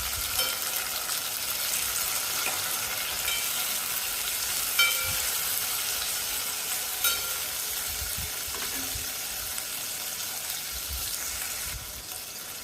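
Sliced tomato sautéing in a pan with onion and garlic for a sardine fish curry, giving a steady close sizzle and hiss with faint stirring scrapes and no voices.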